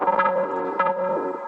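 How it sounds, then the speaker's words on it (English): An acid synth line stretched in Ableton with 16th-note preserve settings stutters through a few buzzy, echoing notes with choppy repeated attacks, heard alone at steady volume. "It sounds more time stretched."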